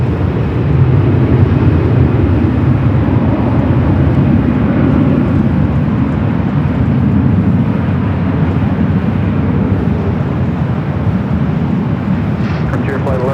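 An Avianca airliner takes off from runway 24 left at Los Angeles International Airport, its jet engines producing a loud, steady broadband roar that holds for the whole stretch without letup.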